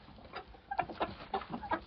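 Farmyard roosters clucking in a series of short, uneven bursts, fairly close and moderately loud, with no talk.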